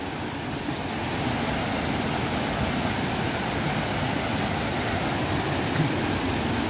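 Lưu Ly waterfall in Đắk Song, Đắk Nông roars as a dense, unbroken hiss at a steady level throughout, heard alone without any talk.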